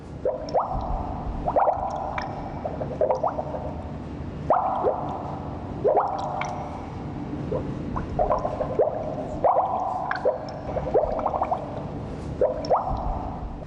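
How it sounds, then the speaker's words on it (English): A spring fountain in Provence trickles and splashes in near, irregular drips and gurgles, bright watery plinks recurring every second or so over a soft continuous flow. "you can listen to the symphony of the spring by a fountain."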